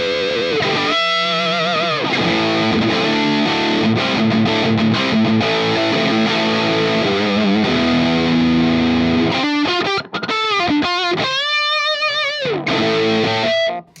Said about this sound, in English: I love distortion number 3 just because it responds really well.